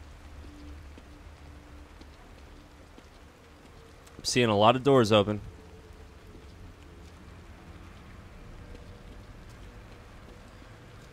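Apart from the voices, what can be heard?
rain in the video game The Evil Within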